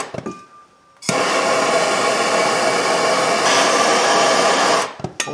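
A torch roars steadily while heating a corroded ball joint bolt on a 2002 Ford Ranger, a loud, close hissing blast that starts abruptly after a click, holds for about four seconds, then cuts off.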